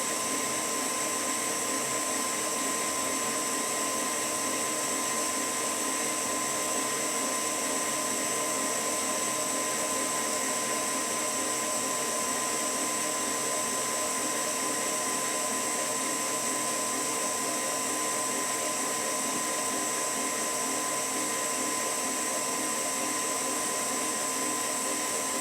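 An electric mixer's whisk beats icing in a pan while hot syrup is poured in, a steady loud whirring hum with a high whine, unbroken throughout and without voices.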